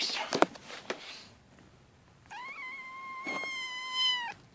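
A hungry cat gives one drawn-out, wavering meow after a few soft sounds and rustles. Close and moderately loud, with someone speaking quietly around it.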